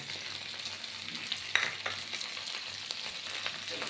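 Raw green beans and pumpkin frying in a pan, giving a soft steady sizzle with a few sharper crackles and light stirring scrapes, moderately quiet and close.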